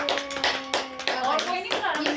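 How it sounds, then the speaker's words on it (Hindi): At a family birthday gathering in a Pahadi village home, several people clap hands in quick, close, uneven bursts while voices chatter over the clapping. "तालियां बजाओ।"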